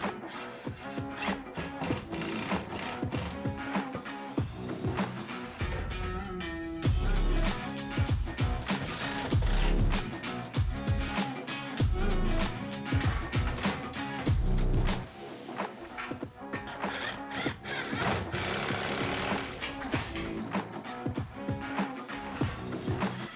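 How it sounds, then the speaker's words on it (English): A power driver drives screws into wall-mounted tool organization panels, with repeated whirring bursts of the motor, screws biting and thumping into place, and clicks and knocks between runs, all close and loud. "I finished driving in all the screws."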